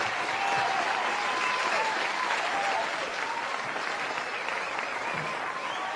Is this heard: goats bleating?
no